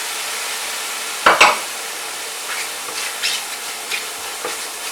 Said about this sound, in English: So I'm going to use the lime juice to deglaze